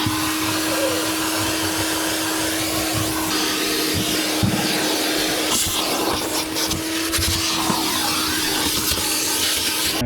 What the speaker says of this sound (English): then what we'll do is we'll take the floor up, take the sub box out, and then hoover out under behind that.